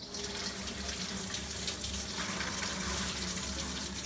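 Water pours and gushes steadily into a kitchen sink as soaked beans are drained after a 24-hour soak, a continuous close rush with no break and no talk.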